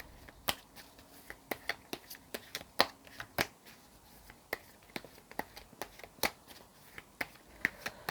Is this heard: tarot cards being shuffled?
yes